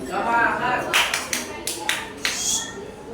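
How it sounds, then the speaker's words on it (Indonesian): A group of pupils at a junior high school in Semarang clap in an energetic rhythmic cheer, a string of sharp, evenly spaced claps over a steady murmur of voices in a classroom. "kita tepuk semangat dulu."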